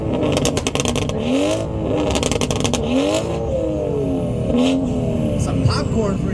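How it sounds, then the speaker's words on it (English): A BMW revs hard in a two-step sound check at a car meet, loud and close, with bursts of rapid popping and rising and falling engine pitch while a crowd cheers and people talk. "Alright, we got a BMW coming up."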